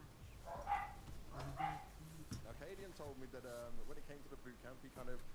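A dog's barks and yips come through faintly in the background while a person keeps talking close to the microphone.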